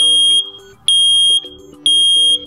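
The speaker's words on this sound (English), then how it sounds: "When an alarm is triggered, you'll hear a loud 85 decibel T3 pattern chirp to alert you." A loud First Alert SA320CN smoke alarm sounds in an 85 decibel T3 pattern of three beeps with a pause after each set, piercing and close, over faint music.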